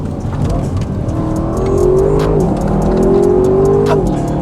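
Car exhaust rising in pitch under acceleration twice in a row on a scenic mountain drive, loud and close from inside the cabin, with a steady road roar underneath.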